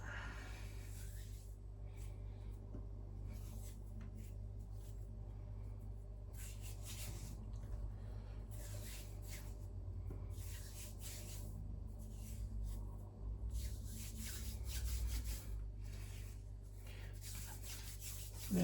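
Hands rubbing excess pizza dough off, a soft repeated scuffing and rasping in irregular bursts over a constant low background hum, close and fairly quiet.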